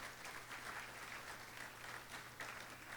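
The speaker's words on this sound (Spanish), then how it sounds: "Denle un aplauso al Rey de Reyes." A church congregation claps for the King of Kings, with faint, distant applause as a dense, steady patter of many hands throughout.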